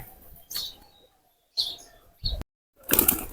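Pigeons flap their wings in short bursts as they fly back into the coop, several separate flurries of wingbeats with brief gaps of near silence between them, close by and fairly clear.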